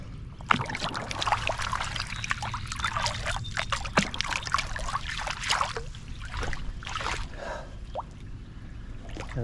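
Creek water trickles and splashes steadily over stones outdoors, a continuous close babble with scattered sharper drips and gurgles and no talking.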